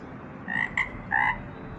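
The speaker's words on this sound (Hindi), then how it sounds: "ये आवाज़ होती है मेंढक की," Frogs croak in unison, sounding as a single creaky call repeated in two or three short pulses over a hissy, rumbling outdoor background, moderately near with no talking.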